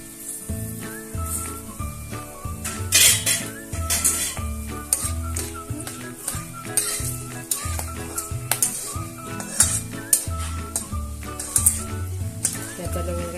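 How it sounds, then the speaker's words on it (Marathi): Whole cloves fry in oil over a low flame, sizzling steadily with frequent sharp pops and spits, along with occasional clinks of a pan or lid. "ही लवंग तळत असताना आता उडतीये"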